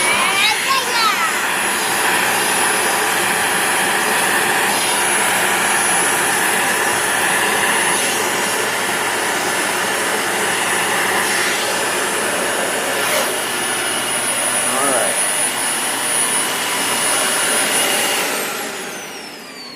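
A Dyson DC40 vacuum cleaner runs with its hose attached, a loud, steady whine and roar that goes on throughout and fades slightly at the end, with scraping and sucking sounds and voices talking over it.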